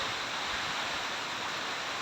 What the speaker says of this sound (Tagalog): Ayan, grabe ulan.